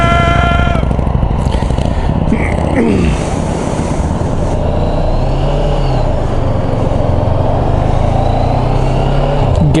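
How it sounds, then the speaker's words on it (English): Loud, continuous road traffic: cars, trucks and motorcycles rumble and rev past close by, with engines rising and falling throughout and no voices. "Traffic here is a beast."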